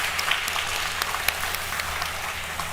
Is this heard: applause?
yes